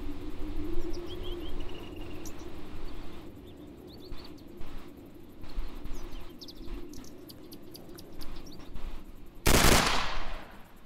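Gun firing in Roblox DayZ, scattered clicky shots over steady outdoor game ambience with birdsong, ending in one loud burst.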